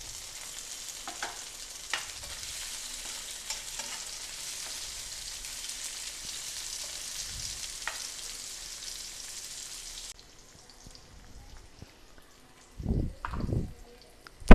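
Tomatoes sizzle and crackle in hot oil in a pan with onions for a chicken gravy, a steady soft frying hiss with occasional stirring clinks, then the sizzle fades and a voice speaks briefly.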